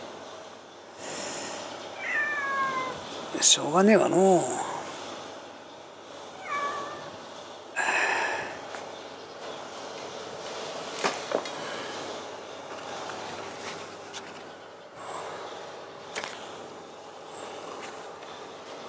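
A stray mother cat meows several times, rising and wavering cries close by, with quieter mews in between and a brief murmur of a voice.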